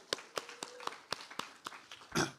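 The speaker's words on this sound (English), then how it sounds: "So a big hand for Forrest." Audience members give scattered, sparse claps for speaker Forrest Williams at a faculty presentation, a handful of distinct claps before a brief fuller burst of applause.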